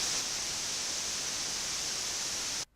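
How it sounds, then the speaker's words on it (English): White noise generated in FL Studio 12 hisses as a steady, even wash across the whole range for over two seconds, then cuts off abruptly. "5000, you can hear clearly the white noise."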